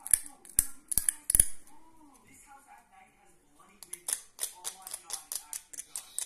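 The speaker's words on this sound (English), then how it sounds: "Scrape off all the sharp stuff." Sharp scraping strokes as the edge of a flint flake is trimmed during knapping, a cluster of crisp clicks early on, then a quick run of rhythmic scrapes up close after a brief pause.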